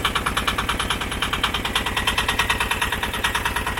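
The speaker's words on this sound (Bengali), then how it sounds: "নৌকার মধ্যে স্টার্ট হয়ে গেছে নৌকা" A small boat's engine chugs loudly and steadily, with a fast, even pulse that runs throughout as the boat pulls away from a riverside landing toward an island. No voices are heard.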